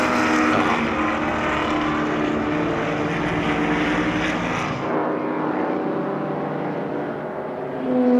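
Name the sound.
classic racing car engine passing, ISO Revolta GT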